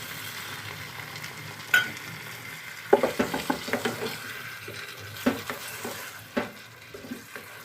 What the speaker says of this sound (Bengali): এরপরে ওর মধ্যে মশলা ধোয়ার জলটা দিয়ে দিলাম।